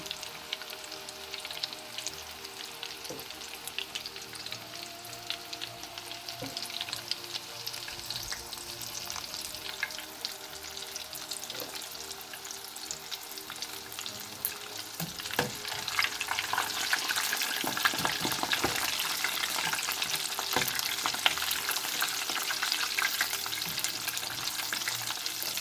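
Breadcrumbed Scotch eggs fry gently in oil over low heat, a soft continuous sizzle with scattered crackles that grows a little busier toward the end, with no talking.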